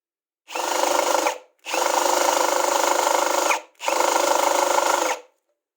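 A power screwdriver whirs against a damaged chipboard screw in three separate bursts, each a close, loud, steady grinding whine lasting about one to two seconds, with short silent gaps between them.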